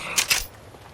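Two quick, crisp mechanical clicks of a weapon reload in Apex Legends, close and distinct, followed by a quiet tail.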